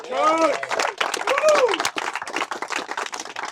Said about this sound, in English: Please give a round of applause for our headliner tonight, Mark Matticola.